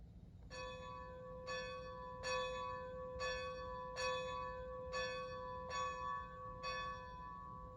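Locomotive bell from a TCS sound decoder in a Bachmann Strasburg 90 model steam engine, ringing eight evenly spaced strokes, each with a long ringing tail, alone over a faint background hum.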